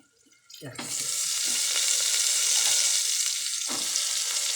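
Brinjal and potato curry with spices goes into a hot pan and is stirred. After a quiet start, a sudden loud sizzle holds steady, broken by a few scraping spoon strokes.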